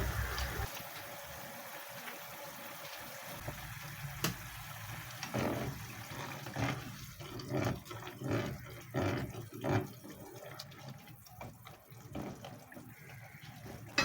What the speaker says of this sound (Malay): Kalau kering sangat tumisnya, letak air sedikit ya.